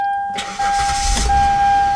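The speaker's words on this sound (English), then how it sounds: "Car starts." A Hyundai car engine cranking and catching after an ignition repair, a short starter burst followed by the engine firing into a steady idle, close and loud under a constant high warning chime.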